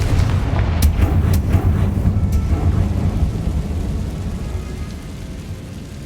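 A Confringo blasting spell fires off in the Hogwarts Legacy video game, a sudden rumbling boom with sharp crackling bursts near the start that fade into a long, low, sustained roar.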